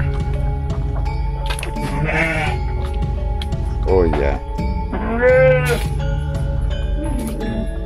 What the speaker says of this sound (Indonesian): Ini ada kambing domba.